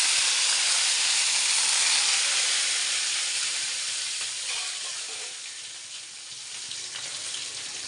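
Cumin, mustard seeds, dry red chillies and curry leaves sizzle hard in hot oil on a stove for a tempering. The hiss is steady and close, easing slightly toward the end, with no voices.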